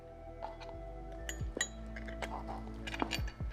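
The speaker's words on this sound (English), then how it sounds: "we go in with our metal bolts in first with the washers, and then we want the nylon washers in between" Metal bolts and washers clinking together during a hitch install on a Tesla Model 3, several sharp, close metallic chinks scattered irregularly over a few seconds, with no talking.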